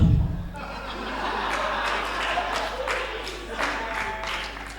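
A comedy-show crowd applauds as comedian Jili takes the stage, scattered clapping mixed with chuckles and laughter over a low steady hum, moderately loud and uneven for a few seconds.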